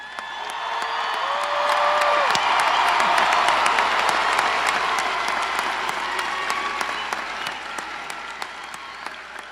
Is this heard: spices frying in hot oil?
no